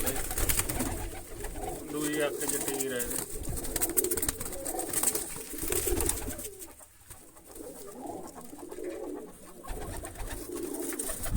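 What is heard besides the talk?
pigeons cooing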